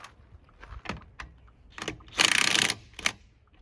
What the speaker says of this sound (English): But for demonstration purposes, I'm going to use the impact.